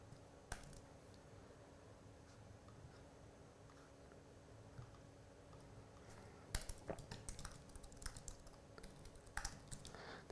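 Someone types a short note on a computer keyboard, with soft, quiet keystrokes that come in brief bursts and thicken into faster clusters toward the end, over faint room hiss.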